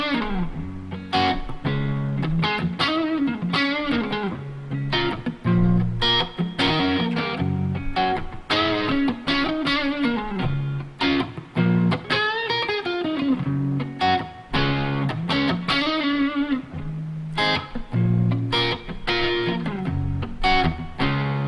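An electric guitar on the neck pickup with volume turned way down plays a lively riff of chords and single notes with a warm, rounded tone and only light grit, no voices.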